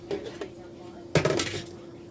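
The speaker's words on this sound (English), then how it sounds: "I'm gonna go ahead and take the lid off." A pot lid is lifted off simmering meatball soup: a few faint clinks, then a sharper metallic clatter as the lid comes away and is set down, close by, with talk nearby.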